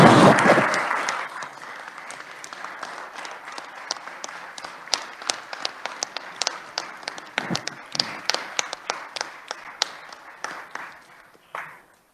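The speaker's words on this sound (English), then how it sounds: "let's give them a hand of applause." A gallery crowd at a JAG-K Day event in a state legislative chamber gives a burst of applause that starts loud and dense, thins to scattered claps and fades out over about twelve seconds.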